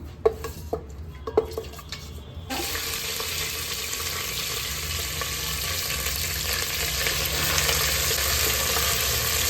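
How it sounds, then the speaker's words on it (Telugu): Bay leaves dropped into hot oil in a pan for a gongura chicken curry, a few light taps and stirs followed by a sudden, steady loud sizzle that fills the rest of the clip. "కొంచెం ఆయిల్ వేసేద్దాం. బిర్యానీ ఆకులు వేసుకుందాం. కొంచెం తిప్పుకుందాం."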